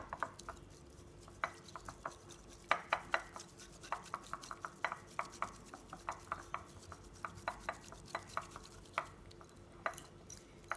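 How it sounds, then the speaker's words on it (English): A bamboo whisk working matcha green tea and water back and forth in a bowl, giving quiet, rapid scraping and tapping strokes in a steady rhythm, close and faint, with no talk. "you're just gonna whisk it back and forth like this, trying to dissolve everything."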